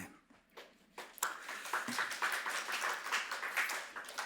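A church congregation applauds during a missionary report, a steady, fairly faint wash of clapping that builds after a few isolated claps and carries on evenly without speech.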